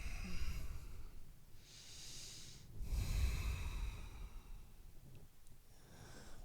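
Slow, audible breathing during a yoga wheel hamstring stretch, several soft inhales and exhales close by with gentle hissing air at an unhurried pace.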